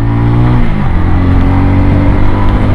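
A TVS Ronin motorcycle accelerates hard off-road, its loud, close engine note climbing and shifting as it pulls away, droning continuously throughout.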